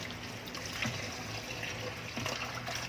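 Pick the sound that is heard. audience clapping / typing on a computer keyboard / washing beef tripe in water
washing beef tripe in water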